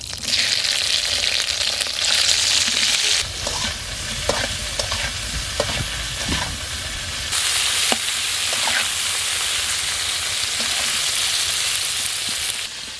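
Cauliflower fries in hot oil in a pan, a loud, continuous close sizzle that swells and eases, with occasional light clinks and scrapes of stirring and no talking.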